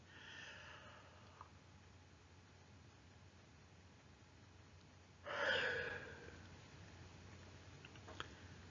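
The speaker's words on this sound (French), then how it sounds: "Vous accueillez un grand bâillement volontaire." A single big, deliberate yawn during a guided sophrology relaxation session, heard as one breathy, drawn-out exhalation of about a second. It stands alone against a very quiet, still background.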